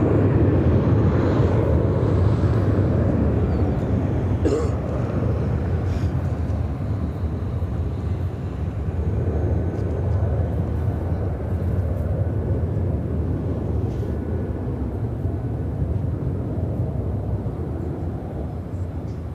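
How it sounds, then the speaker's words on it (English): A United Airlines Boeing 767-300ER takes off at Chicago O'Hare, a low, rumbling engine roar heard from a distance, steady and gradually fading across the whole stretch. "This is United Airlines 929 taking off to London Heathrow on the 767-300ER."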